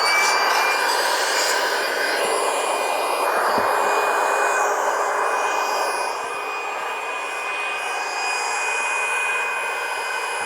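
A small electric air pump runs continuously while inflating an air mattress in a Sienna minivan camper, a steady loud whirring drone with a high whine that dips slightly partway through, close up and without talk.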